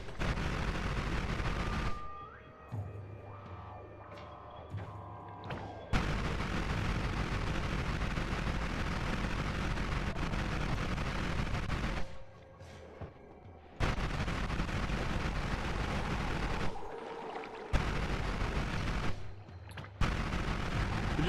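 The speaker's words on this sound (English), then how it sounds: "Could you stop shooting me, please?" Shooting in the video game Noita comes as long stretches of loud, continuous crackling fire and rumbling blasts, broken by several abrupt near-silent gaps.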